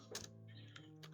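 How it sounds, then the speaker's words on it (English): Keys clatter on a computer keyboard while entering data into a spreadsheet, a few quick bursts of clicks over a steady low hum. "So we start typing in cell A1."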